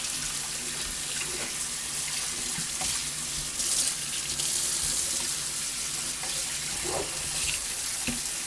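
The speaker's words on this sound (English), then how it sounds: "work the water through it, get all that grease out." Tap water runs steadily into a sink while a greasy pot is rinsed, a close continuous splashing stream with small clanks of the pot.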